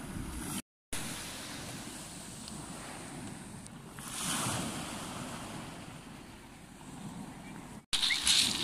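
Sea waves wash onto a beach under steady wind noise buffeting the microphone, with one broader surge of surf midway; the sound cuts out briefly twice.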